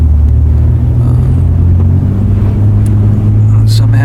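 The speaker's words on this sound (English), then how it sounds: "maybe you can just hear the wind. It's blowing my truck." Strong wind buffets a moving truck near Norco, producing a loud, constant low roar and rumble with faint rattles over the road noise.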